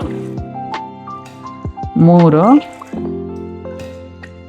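In a home kitchen, cups of water are poured into a pot for bisibele bath, with brief splashing and dripping under a nearby voice that keeps talking.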